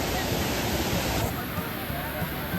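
Rushing waterfall water at Matheran near a dam, a dense, steady roar close by that drops slightly in brightness midway, with faint crowd murmur mixed underneath.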